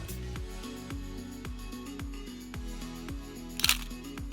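A camera shutter firing once after a 2-second self-timer, a short crisp click near the end, faint and close, over steady background music.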